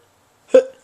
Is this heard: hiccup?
yes